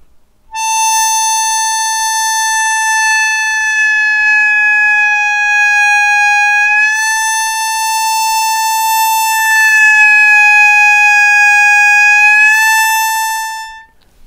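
Single sustained harmonica note on hole 6, played alone and loud, dipping down in pitch as it bends and sliding back up, lasting about thirteen seconds before stopping.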